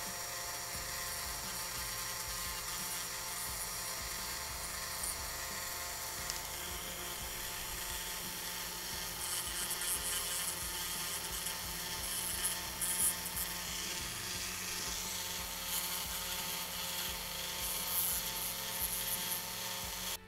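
A rotary tool smooths acrylic fang teeth, whining steadily at high speed with a faint grinding edge and small shifts in pitch as it touches the workpiece, close and continuous.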